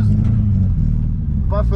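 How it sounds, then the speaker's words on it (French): A car at a Japanese car show event runs rough after apparently losing a cylinder, giving a loud, low, uneven rumbling drone up close, with a voice briefly heard near the end. "on a perdu un cylindre, on dirait. On fait le bruit d'une tondeuse"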